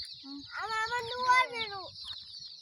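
High, rapid cheeping of dyed, colored chicks for sale fills the background while a hen clucks nearby, with a rising, warbling call in the middle.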